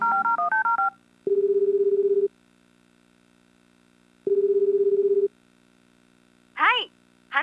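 Telephone tones in the Tokimeki Memorial Girl's Side 2nd Kiss video game: a quick run of dialing beeps, then two long steady ringback tones separated by silence, followed by a brief chirpy sound at the end.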